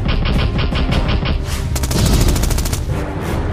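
Rapid bursts of video game gunfire in a Minecraft-style game rattle loudly in quick succession, with dense automatic volleys and booms and no speech.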